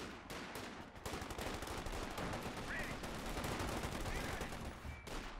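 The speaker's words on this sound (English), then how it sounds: "There's medics shooting at me." Gunfire from enemy medics in the Company of Heroes World War II battle in the Netherlands, 1944: dense, continuous bursts of rifle and machine-gun fire crackling without pause, loud and near, with faint battlefield noise mixed in.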